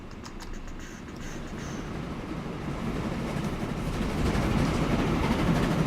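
A train passes in the video game Transport Fever, its steady rumble and rattle swelling gradually louder over a few seconds.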